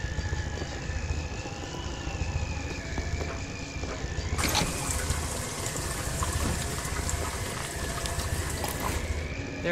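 Water trickles and fills a tank in the video game Fran Bow, a continuous hissing, bubbling flow that swells brighter partway through, with no talk over it.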